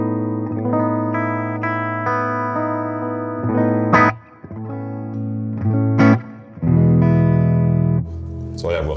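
Electric guitar played through a TC Electronic Hall of Fame reverb pedal in the effects loop, sustained clean chords ringing with a reverb tail, broken by short pauses and a couple of sharp pick or switch clicks.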